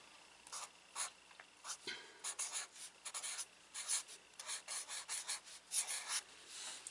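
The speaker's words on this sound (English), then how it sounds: "I'm going to write income." A pen writing a word on paper, close and quiet, a run of short scratchy strokes in uneven rhythm with small pauses between letters.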